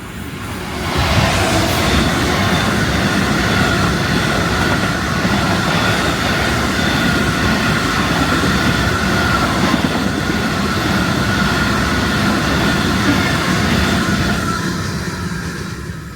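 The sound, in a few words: train passing through Mobberley station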